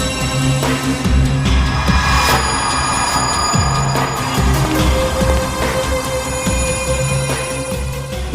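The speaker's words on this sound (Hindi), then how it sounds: "ये देखो श्रेया का मोबाइल फोन।" A mobile phone rings in a basement, a bright electronic ringtone repeating in rhythmic bursts over a steady background, loud and close, with no talking.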